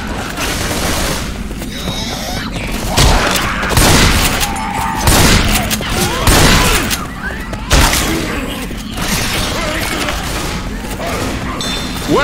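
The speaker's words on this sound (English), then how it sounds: "Molotov!" A Molotov cocktail is thrown in Left 4 Dead 2's No Mercy campaign, bursting into a roaring blaze amid dense overlapping gunfire, booms and mechanical clatter, loud and continuous.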